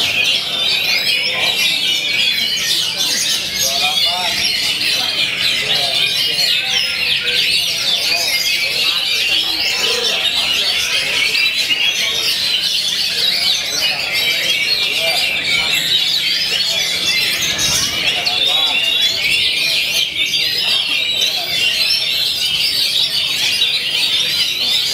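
Many white-rumped shamas sing at once at a songbird competition in a dense, continuous chorus of bright whistles and chirps, loud and close, with faint human voices underneath.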